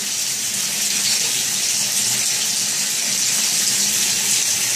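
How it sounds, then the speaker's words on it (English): Steady rain-style shower spray pours continuously, a dense hiss of falling water close by with no pauses. "Got the nice rain shower going."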